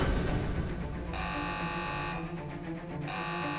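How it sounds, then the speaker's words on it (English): A park alarm on a dinosaur ranch blares in loud, steady electronic tones that switch between a harsher buzzing pattern and a brighter, sustained tone, repeating for several seconds without talk. "The alarm's going."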